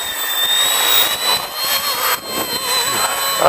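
An Esky F150X RC helicopter flying outdoors in gusty wind, its high motor whine and rotor buzz rising and dipping as it fights the gusts, fairly loud and continuous with wind rush underneath.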